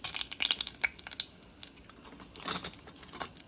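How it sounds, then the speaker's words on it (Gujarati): Dried red chili crackles and spits in hot oil for a tempering, with bursts of close sizzle and pops plus a few metallic clinks of a pan or spoon. "તેમાં હું સૂકું મરચું વઘારમાં નાખું છું ફર્સ્ટ"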